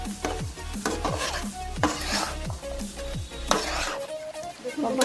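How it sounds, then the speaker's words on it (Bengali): Yogurt chicken with salt and chopped coriander being sautéed in a pan, the spoon scraping and stirring in quick repeated strokes over a steady sizzle, close and fairly loud, with no talking. "আমি ধনে পাতা লবণ দেওয়ার পর চিকেনটা খুব ভালো মতো কষিয়ে নিচ্ছি।"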